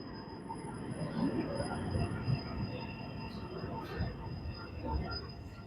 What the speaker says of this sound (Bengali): এই যে এটা হচ্ছে অটোয়ার মেট্রো রেল